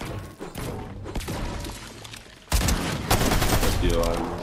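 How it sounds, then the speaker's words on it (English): Gunfire from a shotgun in Fortnite erupts in loud, rapid bursts of blasts and impacts amid game sound effects, with a sharp jump in intensity midway and a voice heard faintly in the mix. "Okay, finally shot the shotgun."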